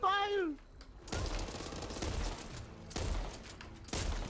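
Bursts of rapid gunfire in the zombie shooter game Back 4 Blood, several loud volleys in a row after a brief rising tone at the start.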